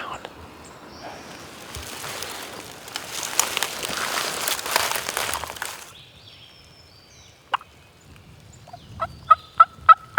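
A wild turkey gobbles in a West Virginia mountain forest, a distant gobble rising out of rustling ground noise, followed by a few sharp close clicks near the end.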